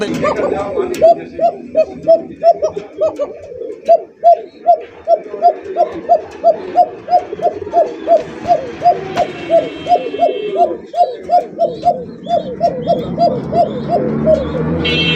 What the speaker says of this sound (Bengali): প্রতিটা কবুতরই মাসাল্লাহ দেখার মতো নেওয়ার মতো